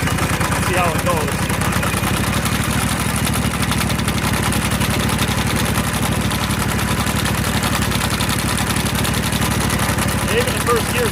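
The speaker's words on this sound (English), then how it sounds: "Even in first gear, some of this stuff here feels like it's working the motor just a little bit." A Simplicity 2210 V-Twin lawn tractor engine running in first gear while pulling a sickle mower through weeds, a steady, loud, close engine drone with rhythmic chatter that continues throughout without a break.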